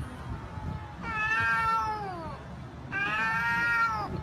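A cat lets out two long, drawn-out wailing meows, loud and close, aimed at a dog it is squaring up to, with a low background rumble between the cries.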